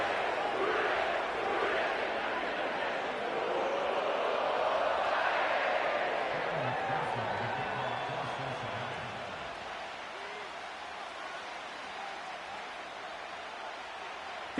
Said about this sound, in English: sellout crowd has arrived at Acor Stadium in Cincinnati